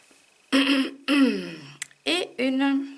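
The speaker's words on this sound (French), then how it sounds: "Excusez-moi, je tousse" Several harsh, close coughs and throat-clearing bursts in quick succession from a woman during a crochet lesson, each short and raspy with brief gaps between.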